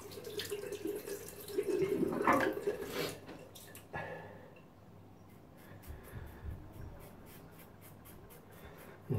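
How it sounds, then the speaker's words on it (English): Razor blade rinsed under a running tap, a soft close splash of water for a few seconds, then faint dripping and taps afterward. "Rinse my blade."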